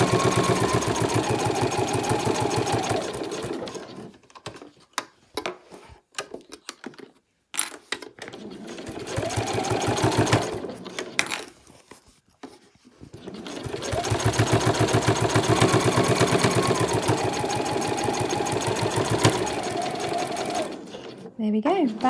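Sewing machine stitching through several layers of fabric for a travel wallet's card pockets, using a medium to heavy needle; runs of steady, rapid mechanical whirring broken by short pauses and stops.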